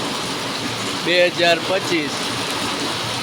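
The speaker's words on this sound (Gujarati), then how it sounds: "કમોસમી વરસાદ છે મિત્રો, કમોસમી." Unseasonal rain falls steadily over flooded farm fields, a constant hissing wash with someone talking briefly over it partway through.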